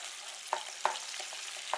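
Meat for gochu japchae fries in oil in a tilted pan, a faint even sizzle with a few light clicks of stirring.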